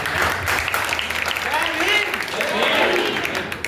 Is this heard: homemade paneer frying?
no